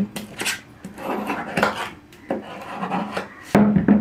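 Metal paste being stirred with hardener in a small container for polishing a cricket bat: repeated close scraping and rubbing strokes in an uneven rhythm, ending with a sharper tap and scrape.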